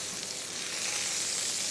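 Filet mignon sears in a hot cast iron pan, giving a steady, close, even sizzle and crackle of frying fat that runs without a break, with no talking.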